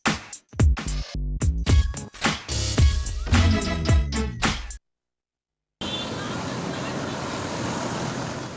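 Busy road traffic with cars and trucks at a city junction where hawkers crowd the road, heard as a steady broadband roar in the last few seconds after a stretch of talking and a brief gap of silence.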